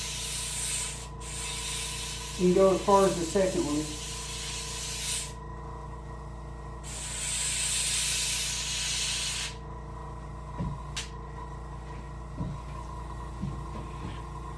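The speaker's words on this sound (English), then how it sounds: "Most of the spray is not hitting the fin." Spray paint hisses from an airbrush onto the fin of a brook trout taxidermy mount, coming as long steady bursts with short pauses between, close and moderately loud, while someone speaks briefly.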